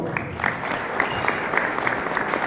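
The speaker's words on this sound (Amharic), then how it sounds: "ጭብጨባ አይገባቸው?" Audience applause for the musicians, a string quartet, at a dinner seminar in a hotel, a dense and steady burst of clapping from a seated crowd, fairly loud and close.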